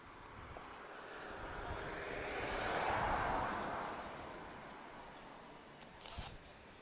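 An Emirates airliner taxiing at Lisbon Airport gives a distant, steady jet-engine roar that swells gradually toward the middle and then fades, with a faint click near the end and no talk.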